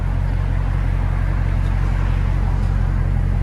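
A Dodge Charger with the 6.4L HEMI V8 and a Magnaflow exhaust idles steadily, a deep, even low rumble that holds constant and close with no talking.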